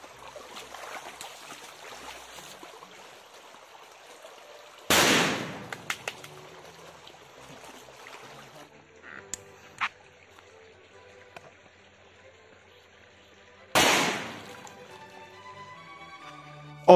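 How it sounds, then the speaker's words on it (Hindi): Two sharp, loud bangs roughly nine seconds apart come from a Vinayaka brand Millennium firecracker, a cheap Diwali cracker that also bursts underwater. Faint trickling background noise and a few small clicks fill the gaps. "और ये है विनायका ब्रांड का मिलेनियन क्रैकर, जिसकी प्राइस है मात्र 40 रुपीज, और ये पानी के अंदर भी फूटता है।"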